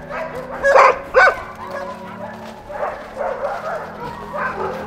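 Sled dogs bark and yip before a race, with a couple of loud close barks followed by softer whining yelps from the team nearby, alone without talk.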